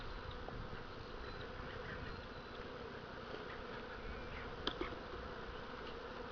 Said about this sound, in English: Shake a handful of bees over the queen.